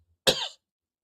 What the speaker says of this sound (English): Whoa, a big cough.